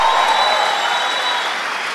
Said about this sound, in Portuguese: Forte esse aplauso àquele que vive